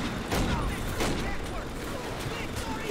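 Call of Duty: United Offensive gunfire, a dense rattle of shots and bursts from a machine-gun nest, loud and continuous under someone talking.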